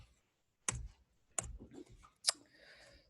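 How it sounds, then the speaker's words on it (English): Students type on computer keyboards: three faint, isolated clicky keystrokes spaced apart in an otherwise quiet room. "sounds like some of y'all are trying to type this in"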